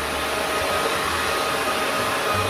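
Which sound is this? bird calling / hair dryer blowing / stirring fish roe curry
hair dryer blowing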